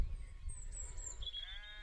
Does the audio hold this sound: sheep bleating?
yes